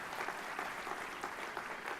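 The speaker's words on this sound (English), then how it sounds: "Let's give David a great round of applause if we could." An audience at the opening of a NASA Langley Research Center facility applauds its director, a steady, full round of clapping from a crowd, loud and unbroken, with no voices over it.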